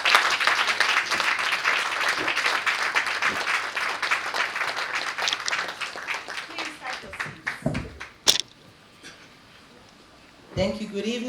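A formal evening audience gives sustained, dense applause for the Vice President of Liberia, which thins out and stops after about eight seconds, followed by a brief pause and a few scattered sounds.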